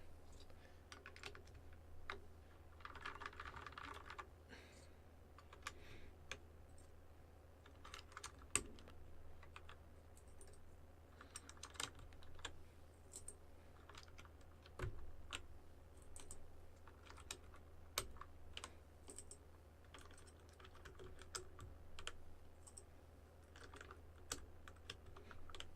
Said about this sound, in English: Another way to improve the sound of a keyboard is you put it on a mouse mat, which is what my desk has.